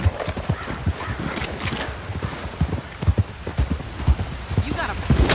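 Horse hooves in the Red Dead Redemption 2 game clip-clop in a steady, close rhythm of repeated hollow thuds throughout, with voices talking over them.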